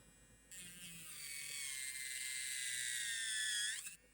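A SAVILAND electric nail drill, a budget model, spins up with a steady high-pitched whine that holds for about three and a half seconds under hard pressure, keeps running without stalling, then cuts off abruptly. It is close and alone.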